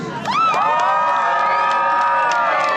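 Crowd at a renaissance fair sword fight bursts into loud cheering and whooping, rising quickly and holding a steady, excited roar for a few seconds.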